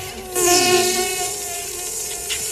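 A mosquito whines with a high, steady buzz in a scene from the Hindi film Robot, loud and close, starting abruptly and holding with slight wavering over a faint background.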